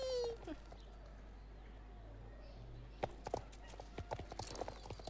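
Horse hooves clip-clopping in Star Stable Online, a run of sharp, fairly close hoofbeats building up in the second half over a quiet game background with a brief whinny-like tone near the start.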